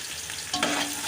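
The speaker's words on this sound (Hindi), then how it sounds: "ऑयल हमारा अच्छे से गर्म हो चुका है। गोल्डन ब्राउन करना है हमने प्याज को।" Onions fry in hot oil on the way to golden brown, with a steady hiss that swells when they are stirred partway through. Close, with no talk.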